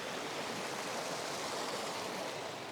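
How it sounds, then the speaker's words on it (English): A small autumn waterfall in the Berwyn range near Bala gives a steady, even rush of falling water, close and continuous with no voices or breaks. "So here is the next little waterfall."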